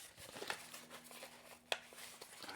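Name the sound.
opening packaging of a rechargeable mouse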